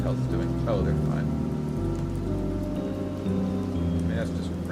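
Acid rain hisses and patters in Kenshi, a steady wash under a low, shifting ambient music drone, with no break across the few seconds.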